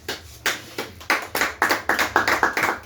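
A church congregation claps in acclamation, a series of sharp, roughly rhythmic claps that start sparse and grow to a steady beat, close and clear with no talking.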